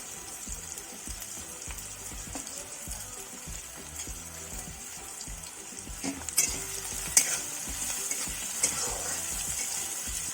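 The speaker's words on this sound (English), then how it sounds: "Saute for a while." Spices and green chilies sizzle gently in a pan for a spicy Maharashtrian village-style chicken curry, a steady soft frying hiss with faint stirring clicks and scrapes.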